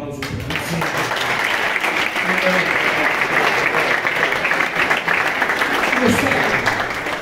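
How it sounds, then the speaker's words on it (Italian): An audience at the inauguration of a football ground applauds in honour of a man, sustained dense clapping from many hands that holds steady and loud throughout, with some voices in the crowd. "faremo un applauso per lui"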